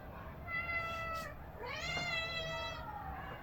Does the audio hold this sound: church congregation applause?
no